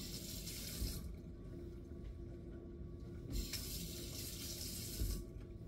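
Tap water running into a sink while a scoop is rinsed, a steady close splashing stream with a few brief clunks, faint and without talk.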